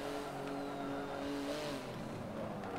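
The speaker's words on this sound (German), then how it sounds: "Ich muss sagen, der Sound vom GT2, der ist echt geil." Engine of a Porsche GT2 in the racing game Forza Motorsport 7, a steady racing-car drone with rising and shifting tones as it revs and accelerates, heard continuously at moderate level without talk.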